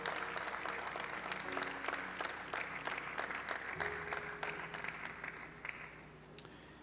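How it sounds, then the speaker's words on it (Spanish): A church congregation claps together in a steady, rhythmic wave that goes on for several seconds. A faint musical tone sustains beneath the hands, and the clapping thins toward the end, leaving a few last scattered claps. "Vamos a darle un aplauso al Padre, al Hijo,"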